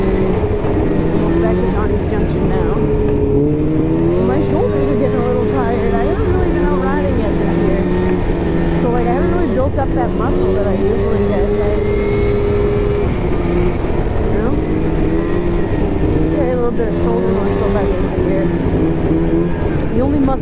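A snowmobile (sled) engine drones steadily throughout a New Hampshire trail ride, a continuous loud motor with pitch wavering as the throttle rises and falls, close and uninterrupted for the whole stretch.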